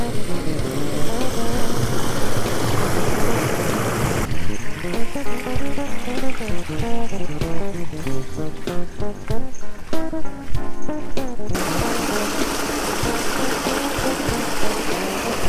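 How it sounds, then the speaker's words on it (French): Water runs steadily along a garden water channel in town, a continuous close rushing flow that stays loud throughout with slight swells and no voices over it. "ils se sont fait leur rapport d'eau. Et regarde comme ça coule."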